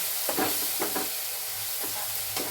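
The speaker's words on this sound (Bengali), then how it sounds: "আঁচটা একটু কমিয়ে এগুলোকে ভালো করে মিশিয়ে নিতে হবে।" Soya chunk keema frying in a pan gives a steady hissing sizzle, broken by several soft scraping strokes as a spoon stirs and mixes it.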